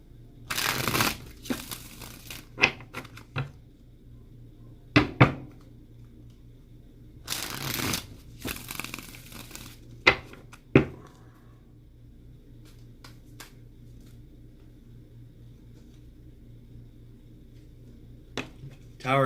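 Tarot cards riffled and shuffled in several short bursts, with quiet pauses between, close by and fairly crisp.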